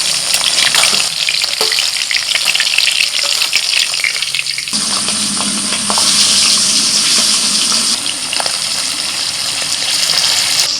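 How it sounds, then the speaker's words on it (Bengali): Hilsa fish sizzles and spatters in hot oil, a continuous bubbling crackle with occasional stirring or turning noises, close and fairly loud. "বাকি মাছগুলো ভাজা হচ্ছে"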